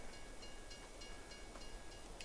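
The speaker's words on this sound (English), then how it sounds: "we got a train coming" A train rolls past in the Farming Simulator 22 video game, a steady rumbling wash with faint rhythmic clatter, continuous and moderately distant.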